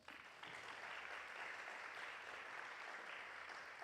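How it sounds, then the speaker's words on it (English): Faint, distant-sounding round of audience applause at an innovation week gathering, a continuous wash of clapping after a brief softer start. "Let's offer him a better round of applause."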